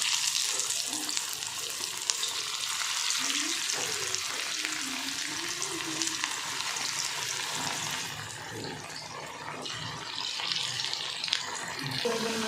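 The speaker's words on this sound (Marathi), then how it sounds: "तेल गरम झाले आता याच्यामध्ये या वड्या सोडून देते" Spinach vadi pieces frying in hot oil, giving a steady, dense sizzle that holds for the whole stretch with faint clinks of a utensil, and no one speaking.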